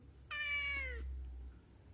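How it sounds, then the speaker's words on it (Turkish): A single drawn-out cat meow, clear and fairly close, rising then falling over about three-quarters of a second in a quiet indoor setting. "Sen kükremiyorsun, sen miyavlıyorsun."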